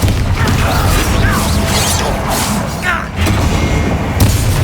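Booming spell blasts and impacts from Bombarda, Confringo and Expelliarmus in the video game Hogwarts Legacy, a dense, continuous rumble of explosions and thuds with a voice speaking over it.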